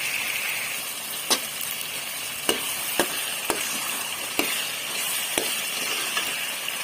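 Boiled potatoes fry in gravy in a pan with a steady sizzle, broken by several sharp, evenly spaced clacks of a spoon against the pan.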